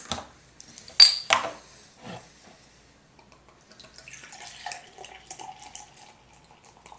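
Young's Double Chocolate Stout pours from a bottle into a glass, a few sharp clinks and splashes first, then a soft gurgling trickle that fades, quiet and close with no talking.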